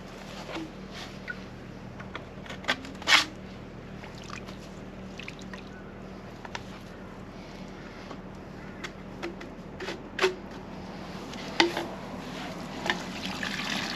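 Water runs and gurgles steadily out of a pipe, close by, with occasional sharp clinks and knocks over the flow.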